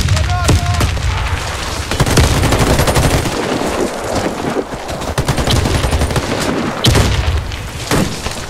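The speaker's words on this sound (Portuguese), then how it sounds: "Lançando granada!" Heavy automatic gunfire and booming blasts in a Warface clan-war match, loud and continuous with dense bursts throughout, as a grenade is thrown into the firefight.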